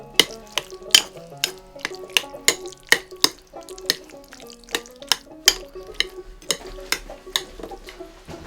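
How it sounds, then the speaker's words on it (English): A spoon stirs cheese into a pot of goulash, striking the pot in about twenty sharp, regular clinks and scrapes that land close and steady, with a faint sizzle underneath. "Stir up my cheese and my goulash."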